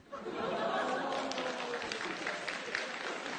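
An audience at a lecture claps in a steady, fairly close wash of applause, mixed with murmuring chatter and some laughter.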